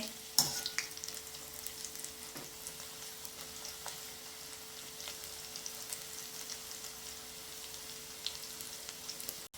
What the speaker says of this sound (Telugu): చక్కగా గోల్డెన్ బ్రౌన్ కలర్ వచ్చేంత వరకు వేపుకొని తినేయడమే.